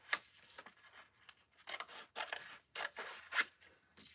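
Scissors snipping through paper during a craft session, a series of crisp, close cuts in irregular rhythm with short pauses between snips, no talking.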